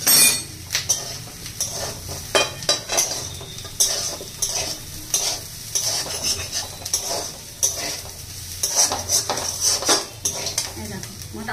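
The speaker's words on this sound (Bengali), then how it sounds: "অল্প একটু নাড়াচাড়া করে নামিয়ে নিয়ে হয়ে যায়" Fried potatoes stirred in a pan with a metal utensil, cooked without water: busy scraping and clinking strokes over a constant sizzle, close and fairly loud, with no voices.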